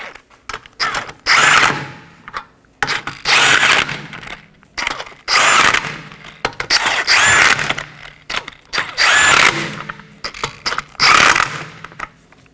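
A power tool snugs down the wheel hub bolts on a 2015-2023 Nissan Maxima rear wheel bearing and hub job, in five loud close bursts of whirring and ratcheting, each about a second long, separated by short pauses.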